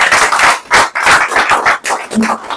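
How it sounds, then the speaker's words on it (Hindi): Audience applause from a crowd at a question-and-answer session, a burst of rapid, uneven hand claps lasting a couple of seconds, near and fairly loud. "बहुत अच्छा सवाल है, इनके लिए तालियां बजाने के लिए।"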